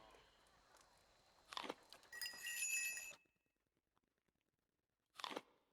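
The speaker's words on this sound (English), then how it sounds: "It's a very satisfying crunching sound." Eating jerky in the video game Pillars of Eternity gives a crisp crunching burst with a glassy, tinkling edge, followed by a quieter pause and one more short crunch. No speech is heard.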